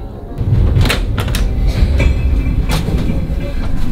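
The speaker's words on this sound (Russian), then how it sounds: "ну что, я в поезде" Passenger train in Saint Petersburg running on rails, heard from inside the carriage: a loud continuous low rumble with periodic clicks and rattles from the wheels, no voices.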